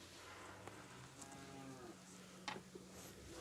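Cows moo faintly in the background on a small Ukrainian farm, with a low drawn-out lowing call among quiet barn noises and no talking.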